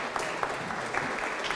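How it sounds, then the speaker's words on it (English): A dinner audience at an investor information event gives a short, soft round of applause, steady and somewhat distant, with a few individual claps popping out. "Round of applause, awesome."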